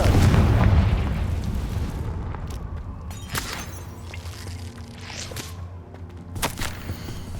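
In Hogwarts Legacy, a Confringo blasting spell lands with a heavy booming explosion at the start, then a rumbling decay. Sharp cracks and pops follow as debris settles.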